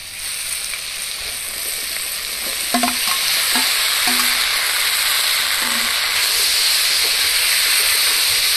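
Cut taro stolons go into a pan of fried prawns, setting off a loud, steady sizzle with broad hiss that swells after a few seconds and holds, along with a few clinks as they land.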